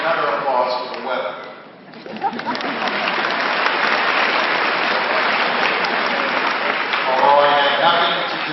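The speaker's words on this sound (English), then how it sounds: "And I'd like another applause for the weather." Sustained applause from an outdoor audience at a veterans tribute ceremony, a broad steady wash of many hands clapping for several seconds, with a speaking voice over it at the start and again near the end.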